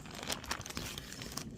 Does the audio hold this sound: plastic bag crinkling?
yes